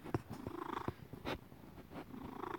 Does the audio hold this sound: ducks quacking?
no